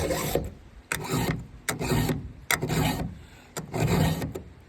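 A hand file sharpening chainsaw teeth, five rasping strokes in an even rhythm, each a short gritty scrape followed by a brief pause, close and clear with no talking.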